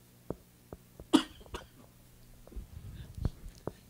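A few short coughs and throat-clearing bursts, close by and spaced apart, with soft breathing between them in a quiet room.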